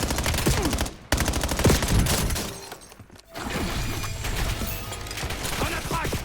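Enemy gunfire aimed at the player in Call of Duty Black Ops 7, loud dense automatic bursts with brief pauses, shattering impacts and combat noise throughout.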